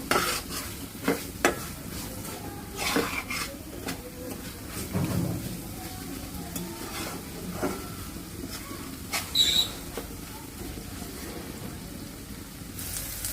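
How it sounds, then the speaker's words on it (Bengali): Spice masala with chili powder, turmeric and salt fries in a pan for a green banana kofta curry, with a steady soft sizzle and repeated scraping and clinking of a spoon as it is stirred. "মরিচ গুঁড়ো হলুদ গুঁড়ো দিয়ে দিচ্ছি স্বাদ মতো লবণ ভালোভাবে মশলাটা কষিয়ে নেব"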